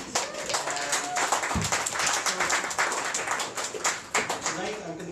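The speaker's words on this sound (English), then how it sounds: "give a round of applause" A small audience at a QueensJS JavaScript meetup claps in a brief, uneven burst of hand claps, fairly close and moderately loud, with some speech mixed in.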